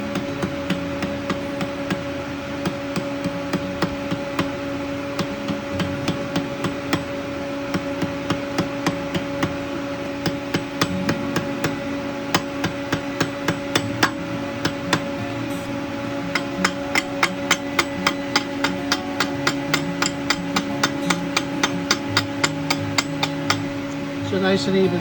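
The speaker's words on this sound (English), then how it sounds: "you can hammer right on that crease" A hammer strikes the crease of a metal tube being forged, with sharp ringing blows repeating steadily and speeding up over a constant mechanical hum, and voices talk now and then in the background.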